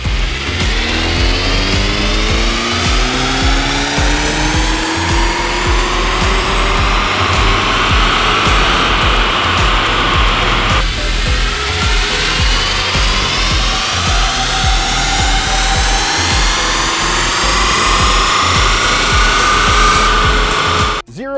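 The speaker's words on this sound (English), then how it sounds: "Let's see what they can put down in the dyno." A VW MK8 GTI on Stage 1 tune with 91 octane fuel pulls hard on a dyno, its engine roaring loudly as it rises through the revs twice in a row, then cutting off abruptly.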